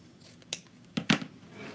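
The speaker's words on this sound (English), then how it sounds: "trim it off, and make our tail" Scissors snip through ribbon while a bow is being made, giving two or three short, crisp cuts close to the microphone in an otherwise quiet room, with no one speaking.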